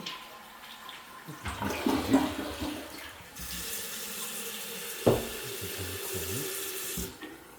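Water runs steadily from a bathroom shower head in a studio officetel and drains away, with a steady splashing hiss that shifts and surges midway.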